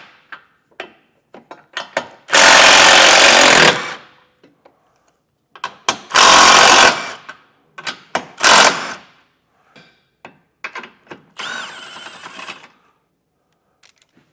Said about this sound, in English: take an 18mm socket and get these 8 nuts removed